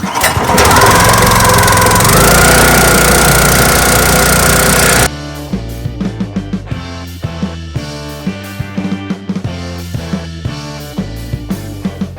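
A small gasoline engine with the choke closed, likely a lawn mower, runs loud and steady for about five seconds, then cuts out into sparse sharp knocks and clatter.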